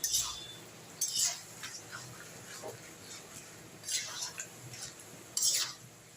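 A spoon scrapes and clinks against a pan while chicken curry is stirred with added hot water. The sounds are quiet, intermittent strokes spaced a second or two apart over a faint hush.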